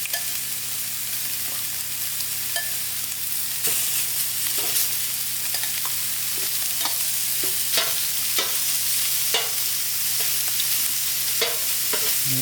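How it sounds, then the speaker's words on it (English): Chorizo pieces frying and browning in a pan for paella, a steady loud sizzle with repeated sharp scrapes and stirs throughout, no voices. "I have my pieces of chorizo nicely browned"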